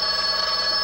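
An old-fashioned telephone bell rings steadily in a short, continuous burst, fairly faint and with no one talking over it.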